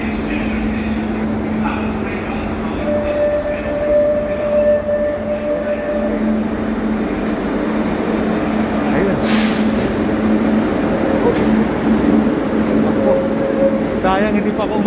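A Barcelona metro train on Line 2 hums at a station, with a steady rumbling drone and tonal whines as the doors close; a person talks over the train noise throughout.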